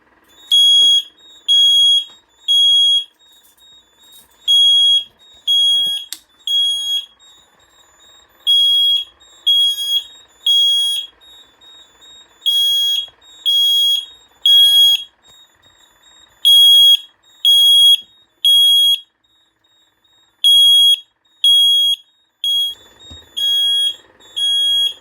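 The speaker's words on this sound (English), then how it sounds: "the monitor module for the duct detector will activate, and the piezo on the key switch will go off." Notifier NFS2-640 fire alarm panel with a key switch piezo sounding in test, a loud, shrill, steady electronic tone pulsing in repeated bursts of three with short gaps, close and alone.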